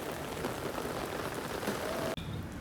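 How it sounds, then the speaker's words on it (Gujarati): Heavy monsoon rain pours steadily outside, a dense, even hiss of drops drumming on surfaces. It is moderately loud and continuous, with a brief dip near the end and no voices over it. "જો બહાર વરસાદ આવે"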